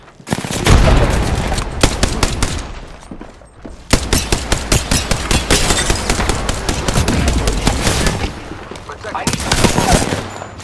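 Rapid automatic gunfire from an Apex Legends match, dense bursts of loud, close shots rattling almost continuously with brief pauses and a few heavier impacts.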